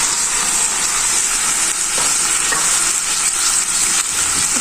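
Okra (bhindi) fries in a pan with onion and spices for bhindi masala while being stirred, giving a loud, steady, close sizzle that holds evenly throughout with no voices.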